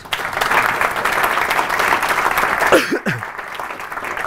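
Steady audience applause fills a maths lecture hall, a dense even patter of many hands clapping close by, with a brief voice and a sharp knock near the end before the clapping carries on.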